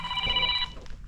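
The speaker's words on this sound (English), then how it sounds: "I've got to answer this phone call" A phone rings in a garage workshop during work on a Honda Z50 motorcycle, one short electronic tonal ring lasting about half a second over low background noise.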